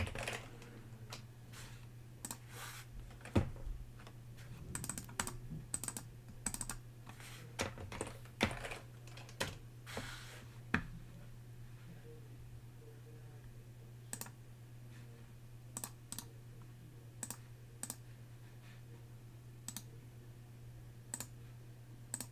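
Typing on a computer keyboard to post a link in a chat, with sparse, close key clicks that come in quick bursts early on and then settle into single taps spaced a second or two apart over a faint steady hum.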